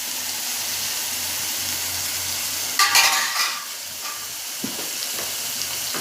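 Spices sizzle steadily in hot oil while meat curry cooks, a close, continuous frying hiss with a brief burst of stirring and a few light utensil taps, no talking.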